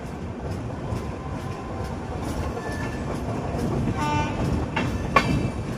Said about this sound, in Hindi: हमारी गाड़ी बिल्कुल टाइम पे शहीद तुषार महाजन उधमपुर रेलवे स्टेशन से निकल रही है